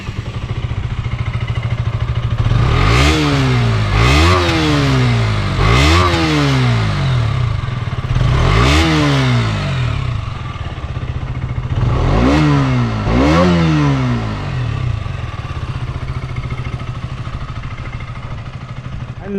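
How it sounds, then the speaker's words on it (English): A KTM Duke 125 motorcycle revs repeatedly from idle, its exhaust note rising and falling in sharp bursts, about six blips over a steady idle, loud and close with no talking. "Here the exhaust note."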